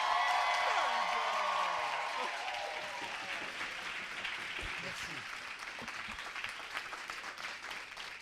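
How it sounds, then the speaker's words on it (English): An audience bursts into applause to welcome a speaker at a Paris annual general meeting, loud at first and then settling into steady, dense clapping. "put all your energy and all your applause, whatever the noise you can make"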